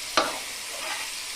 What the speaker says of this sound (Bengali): এই পর্যায়ে আমি আমার মশলাগুলো ভেজে নিলাম